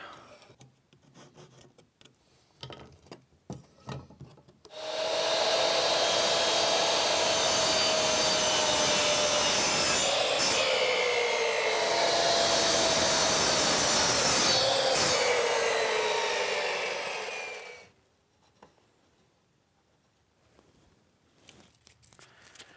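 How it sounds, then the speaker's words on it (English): A power saw rips through reclaimed pallet wood, cutting 45-degree bevels. One long, loud, steady cut runs for about thirteen seconds, its pitch sliding gradually, with quiet workshop noise before and after. "I'm gonna go ahead and cut a 45 on the inside of these so I have a nice beveled corner"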